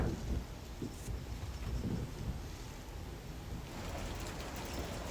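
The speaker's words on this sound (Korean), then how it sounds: "며칠 후 겨울비가 엄청 오네요." Heavy winter rain pours down in a steady, dense wash of noise with a low rumble underneath, continuous and fairly loud from start to finish.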